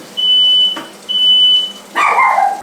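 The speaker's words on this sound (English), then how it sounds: "I cooked them way too much where the fire alarm went off" A smoke alarm set off by overcooked vegan burgers sounds in loud, piercing high beeps, two long tones, then a harsher burst, close and with no talk.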